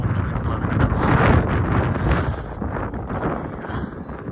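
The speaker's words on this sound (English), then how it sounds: "That is one cold wind blowing across there." Cold wind blows across an open Latvian coastline, a steady loud rushing roar buffeting the microphone for several seconds with no talking.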